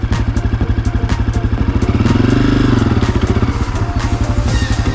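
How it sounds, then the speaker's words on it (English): A Honda CRF 250F dirt bike engine chugs nearby in a rapid, loud, even thump, briefly swelling as the bike pulls away in first gear, then settling back to its steady beat. "When you press the sweet spot, the bike starts to go forward."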